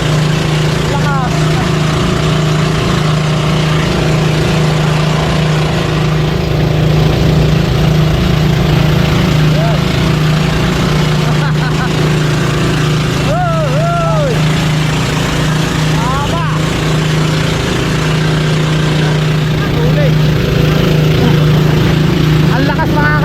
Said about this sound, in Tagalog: Ang lakas, makakatakbo na yung makina niya. Dalawang makina pala yan.